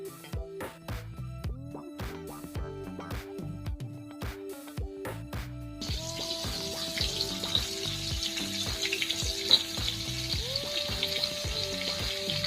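Bombil (Bombay duck) fish coated in rice flour, rava and gram flour sizzles in oil on a hot tava. The frying crackles steadily and close up under a tonal background.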